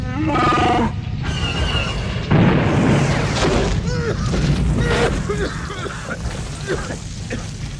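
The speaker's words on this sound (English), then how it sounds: "All they did was blow a big hole in the wall of our cell." A loud, rumbling blast rolls out with roaring, growling textures and debris-like crackle, sustained and booming up close.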